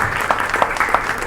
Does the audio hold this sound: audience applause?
yes